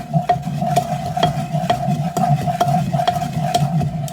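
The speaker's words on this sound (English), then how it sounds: "just keep stirring till the chocolate smooths out." Steady rhythmic scraping of a spoon stirring chocolate and butter melting in a pan on a stovetop, close and continuous with regular strokes about twice a second and no talk.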